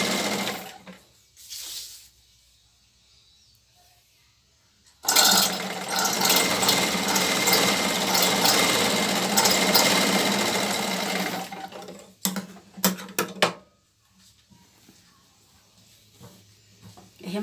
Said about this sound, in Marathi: आता आपण हे एक बाजू शिवून घ्यायचं